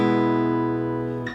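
Acoustic guitar played out of tune, a single strummed chord ringing out and slowly decaying, close and alone.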